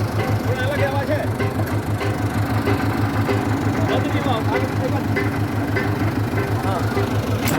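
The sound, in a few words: Tiger Di 60 CRDI tractor engine running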